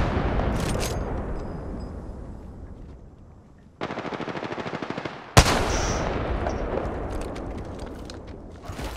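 Sustained automatic gunfire in the tactical shooter game Rainbow Six: loud, dense rapid-fire bursts rattle almost continuously, with a brief tighter volley and a sharp crack partway through before the shooting resumes.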